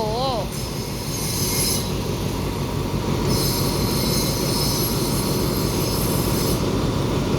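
Freight train 722 rolls into Photharam station in Thailand with a loud, continuous heavy rumble, while high, steady wheel squeal rises and fades above it.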